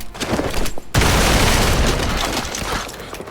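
Gunfire and heavy impacts in the turn-based superhero game Marvel's Midnight Suns, a loud booming blast that starts abruptly and rolls on as a dense, sustained roar with no talk over it.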